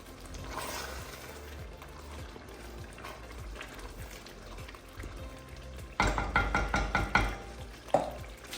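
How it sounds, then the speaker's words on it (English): Lasagna meat sauce being stirred in a pot over a lowered flame, a soft bubbling simmer with a burst of louder scraping and clattering from the spoon toward the end. "So I'm going to turn the flame down, give it a quick stir"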